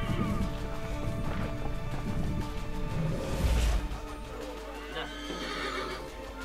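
Horse neighing and clip-clopping hooves in the video game Assassin's Creed 3, a loud whinny over steady in-game ambience with a sharp impact partway through.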